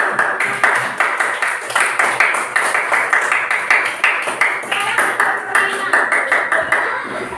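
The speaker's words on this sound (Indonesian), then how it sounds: "Beri tepuk tangan untuk kita semua sudah belajar." A fourth-grade class claps hands together in a quick, steady patterned rhythm, the sharp claps evenly spaced and loud throughout, with faint voices underneath.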